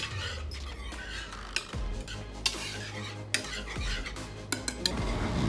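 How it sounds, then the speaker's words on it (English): A wire whisk stirs chicken broth in a metal pot, scraping and clinking steadily against the sides with a few sharper taps, close up and with no talking. "I'm going to get my wire whisk out this time."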